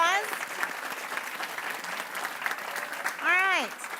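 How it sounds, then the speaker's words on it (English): An audience gives a round of applause for students at a community event. The dense, even clapping runs throughout, with voices briefly rising over it near the start and again near the end. "can we give them all a round of applause?"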